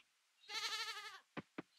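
A goat in the Coral Island farming game lets out one wavering bleat, followed by two short clipped sounds, clear and close against a quiet background.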